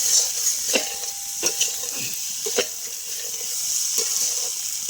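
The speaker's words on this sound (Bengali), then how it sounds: "আমার আলুর দমটা কত সুন্দর করে কষানো হয়েছে পুরো তেল ছেড়ে দিয়েছে" Potato dum sizzles steadily in oil in a pan while a spatula stirs it, with scraping strokes over a continuous frying hiss.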